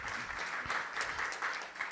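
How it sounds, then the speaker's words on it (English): Brief burst of audience applause at a regional economic development meeting, a diffuse wash of many hands clapping, moderately loud and continuous. "Let's give Graham another big round of applause."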